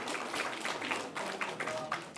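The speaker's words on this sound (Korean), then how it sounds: "여러분 박수로 화답을 부탁드리겠습니다." An audience claps at the Kim Man-jung Literary Award ceremony, with a patter of hand claps spread through the hall at moderate volume, neither sharp nor thunderous.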